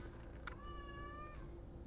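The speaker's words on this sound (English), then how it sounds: "Sorry about the cat." An elderly cat meows once, a drawn-out, wavering call over a steady background hum, faint and slightly distant with no talking.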